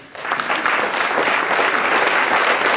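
An audience at a blockchain kickoff event in Chicago breaks into applause, swelling quickly into a full, sustained round of clapping.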